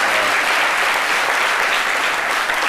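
Strong, sustained applause from a studio audience on a French midday TV talk show, a thick, even roar of many hands clapping close and loud throughout, with no voices on top.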